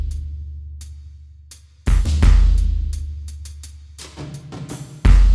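Orchestral percussion bus with hall reverb, compression and an SSL channel strip: deep booming drum hits and sharp strikes, loud and close, each swelling into a long, wide reverberant tail.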